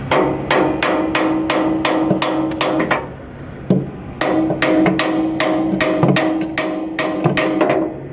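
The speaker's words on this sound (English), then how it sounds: "I gotta hammer this right here." Rapid series of sharp metallic hammer strikes on stuck metal pins rings out close by, in two bursts of steady regular blows separated by a short pause.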